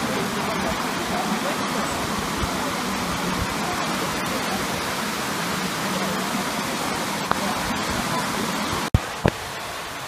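A waterfall by fallen logs in a forest on the way around Lake Issyk-Kul gives a constant, loud rushing roar throughout, with a couple of brief knocks near the end.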